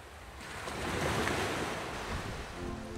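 Ocean waves and gusting wind at sea, recorded aboard a sailing yacht crossing the Atlantic toward South America: a steady, loud rush of surf and wind noise that swells and holds with no voices.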